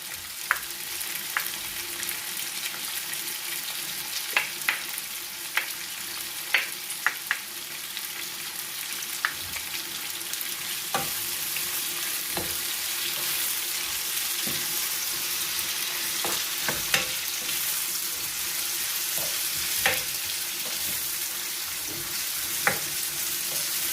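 Onion frying in a pan sizzles steadily and close, with scattered sharp crackles and pops spread across the whole stretch and no talking.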